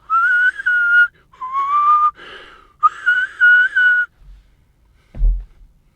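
Several clear, tonal whistles made while inhaling, in short phrases with slight pitch glides, close and loud, followed by a short breathy puff at the end.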